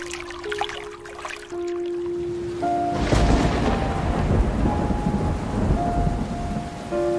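Thunderstorm with heavy rain: a deep rolling thunderclap bursts in midway over dense, steady rainfall, with soft musical tones lingering underneath, close and loud throughout.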